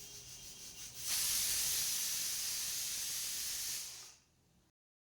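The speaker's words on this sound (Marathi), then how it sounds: "एका साईडला कुकरच्या शिट्ट्यासुद्धा यायला सुरुवात झालेली आहे." A pressure cooker in a home kitchen lets out a loud, steady steam whistle that rises abruptly, holds for about three seconds, then fades into quiet.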